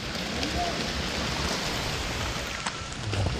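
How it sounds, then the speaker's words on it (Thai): Steady rain falls in a dense, continuous hiss, with scattered drops pattering on surfaces nearby. "ฝนอะไรอุ้ยฝนตก"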